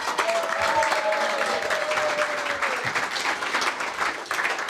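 Audience at the TR Register 50th anniversary club event applauding and cheering for a long-serving member, steady dense clapping filling the room with a few whoops rising through it.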